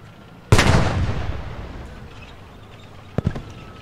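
A single loud tank cannon shot in Post Scriptum, near and sharp with a long rumbling decay, followed a few seconds later by a fainter distant impact or second report.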